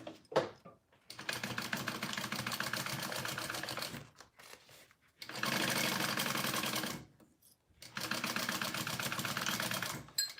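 A sewing machine stitching the sides of a handmade Teloujay bag runs in three long, steady bursts separated by short pauses, each a dense rapid whir close to the microphone.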